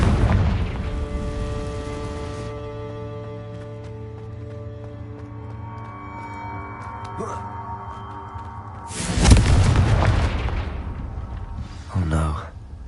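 Confringo fire spell blasts in Hogwarts Legacy, a loud booming explosion with a crackling burst near the middle, then a smaller pop near the end, over a steady game music and ambience bed.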